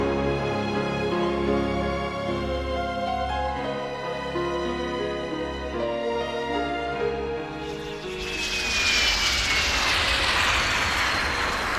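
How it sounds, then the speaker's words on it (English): A Saab Draken jet fighter built in Linköping, Sweden, roars with a steady, loud engine drone that swells into a broad rushing jet blast, heard alone without talk. "This is my favorite aircraft, the Saab Draken."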